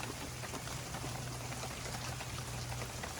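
Heavy rain from Tropical Storm Hilary driven sideways in California, a dense steady hiss of downpour with constant pattering on surfaces, loud and unbroken throughout.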